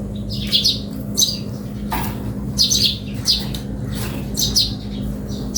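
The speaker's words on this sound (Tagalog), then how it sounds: "Mga bisita natin, mga ibon." Wild birds chirping outdoors in the Philippines, repeated bright tweets and calls in short bursts over a steady low background hum, with no talking.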